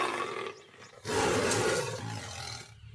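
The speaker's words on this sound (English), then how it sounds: "Both male and female lions roar, and the males can be heard 5 miles away." A lion roars loud and close: a deep, rough bellow that swells, then tails off, with no voices.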